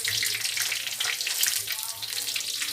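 Chicken pieces frying in a hot pan give a steady, close hiss of sizzling oil with fine crackling spatter throughout, while a person speaks faintly in the background.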